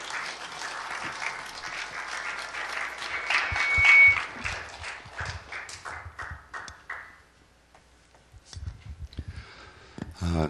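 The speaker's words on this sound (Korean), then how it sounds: "박수로 환영해 주시면 감사하겠습니다" Audience applause welcoming a pastor to the stage at a Korean mission conference: a sustained burst of clapping for about seven seconds that fades out, followed by quiet and a few scattered taps.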